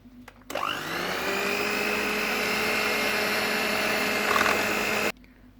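An electric mixer whips eggs for a rava cake (basbousa), a steady loud whirring hum that starts abruptly, holds evenly for about four and a half seconds, then cuts off, with no talking.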